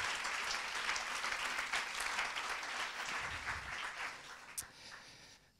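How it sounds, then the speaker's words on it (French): An audience at a French-language fundraising seminar applauds to welcome a speaker, a dense, steady clatter of many clapping hands that thins and fades toward the end, with one sharp louder clap near the close. "je vous demande d'accueillir Thomas par des applaudissements nourris"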